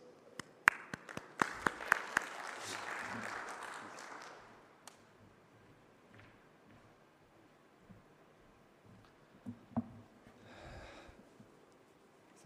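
Scattered audience claps at a water-systems conference session, a few sharp near claps opening into a short burst of applause that fades within a few seconds, followed by near-silence with faint breathing and a couple of isolated thumps.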